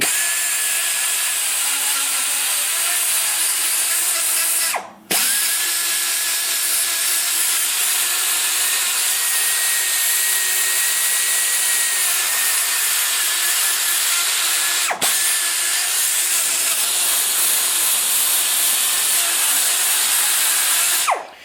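A 120-grit sanding roll on a rotary tool porting a Chevy LT-1 cylinder head, whining loudly and continuously at high speed, with two brief cut-offs where it stops and restarts.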